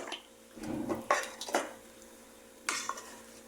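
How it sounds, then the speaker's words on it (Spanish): A spoon scrapes and clanks against a pot while seasoned chicken thighs are stirred, in a few short bursts of clatter with quiet gaps between them and no talk. "Vas a mover para incorporar todo con los muslos."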